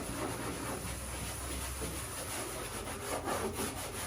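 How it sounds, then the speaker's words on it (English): Steel wool scrubs residual paint stripper and paint off aluminum in a steady, close, continuous rasping rub that barely varies in loudness over a few seconds. "You'll get the residual stripper off, along with any extra paint as well will come off with this steel wool"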